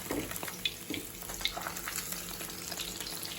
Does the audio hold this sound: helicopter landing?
no